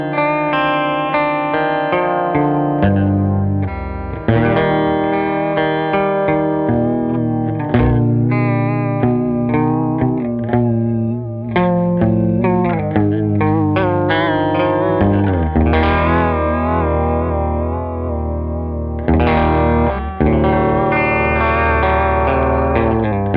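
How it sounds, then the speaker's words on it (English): An electric guitar plays continuously through a Mirror House pedal, with the upper voice's animate control adding a wavering pitch vibrato and detuned, chorus-like shimmer. The tone is loud, sustained and full throughout. "we're going to focus on the animate control as it changes the pitch vibrato"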